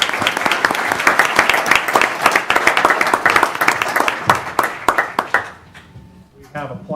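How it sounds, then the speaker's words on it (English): A council meeting audience claps in a round of applause, a crisp, close burst of many hands that tapers to a few final claps, with talk mixed in. "if we can just give him a round of applause and have him come up"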